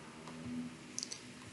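Sharp mouse clicks on the New button in Odoo business software, two or three quick faint clicks close together in an otherwise quiet room.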